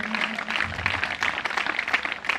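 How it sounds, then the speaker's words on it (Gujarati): Steady applause for students at a school award ceremony in Solaiya, a continuous crowd clapping at moderate loudness with a brief voice near the start. "તાળીઓ થતી રહેવી જોઈએ."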